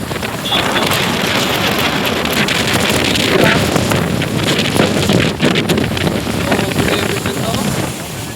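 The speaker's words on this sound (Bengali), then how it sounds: "চট্টগ্রাম পতেঙ্গা সমুদ্র সৈকত" Wind roars hard against the microphone beside sea waves at Patenga sea beach in Chittagong, with a steady, loud, broadband rush throughout.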